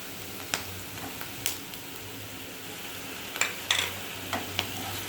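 Ginger garlic paste sautéing with onions in a pan, a quiet steady sizzle broken by several soft scrapes and taps of a stirring spoon. No one talks.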